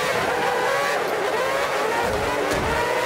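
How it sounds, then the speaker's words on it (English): An F1 car in the Forza Motorsport 5 racing game spins out with ABS off, its engine roaring loudly and steadily throughout as the tires skid and squeal, with no talking. "I just spun out, it looks like."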